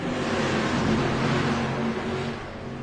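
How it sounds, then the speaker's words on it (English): Street stock cars roaring back to full throttle on a restart in iRacing at Southern National, a dense, continuous engine drone from several cars, loud and steady throughout with no talk. "Brandon Elvis through the restart zone, back into the throttle."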